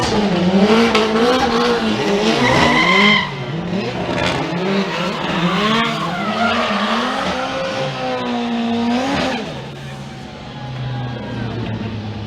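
Drift cars skidding and spinning out during a Formula Drift top 16 final at Palm Beach in 2013, loud engine roar and screeching tires rising and falling throughout, with a commentator talking over it.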